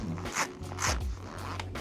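A zipper on the canvas cockpit enclosure of a Prestige M48 boat is drawn in a few quick rasping pulls, close and clear, with someone speaking faintly.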